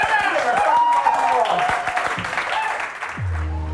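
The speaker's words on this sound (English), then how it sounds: "Let's give a big warm round of applause for Daniel James" A crowd applauds Daniel James with steady mixed clapping under voices and cheers, fairly loud, tapering toward the end as a low tone enters.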